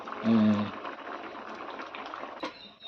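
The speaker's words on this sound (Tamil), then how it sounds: "முட்டையெல்லாம் உடச்சி ஊற்றி முட்டை மாலாம் கொதிச்சுக்கிட்டு இருக்கு" Egg curry with coconut milk bubbles and simmers steadily in a pot at close range, a soft continuous boiling texture, with a brief tonal beep near the start.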